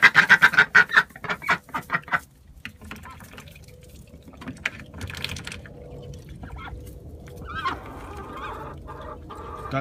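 A burst of rapid, loud quacking from ducks up close, followed by quieter, scattered bird chatter and rustling in the background.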